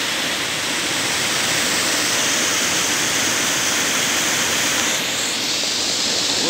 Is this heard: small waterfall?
yes